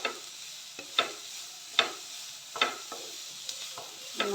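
Onions sautéing in a pan for chicken chatti pathiri, a soft steady sizzle broken by repeated scraping stirs of a spoon against the pan at a regular pace.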